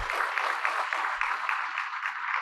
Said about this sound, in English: ladies and gentlemen, let us give a big round of applause to Ms. Rachel.